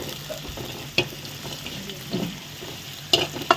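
Finely chopped onion frying in a pan, a soft low sizzle broken by a few sharp clinks and scrapes of a spoon stirring, fairly quiet and close.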